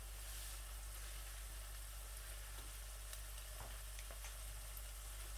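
Chicken pieces frying in a little oil for fried rice, a steady close sizzle with occasional pops and crackles, continuous throughout with no talking.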